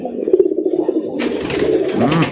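Black-coloured rasgolla pigeons cooing close by, a rapid run of low throaty coos followed by a longer rolling coo under a brighter rustling background.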